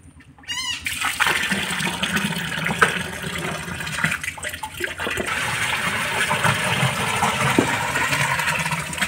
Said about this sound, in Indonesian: Nah, setelah itu kita buang ya airnya.